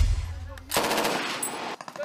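Rapid rifle gunfire rings out in dense jungle at Fort Magsaysay in Palayan, Nueva Ecija, during a joint Philippine and US Army training exercise, loud bursts of shots firing in quick succession.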